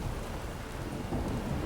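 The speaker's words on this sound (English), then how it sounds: "Lightning cracking on the horizon." Thunder and rain in The Witcher 3 video game, a steady dense rush of rainfall under a low rumbling roll of thunder that swells slightly toward the end, with no talking.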